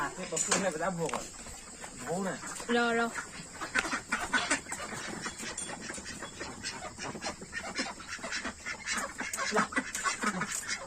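Ducks quack in a few short, nasal bursts close by, mixed with other animal noises, while people talk loudly and continuously over them.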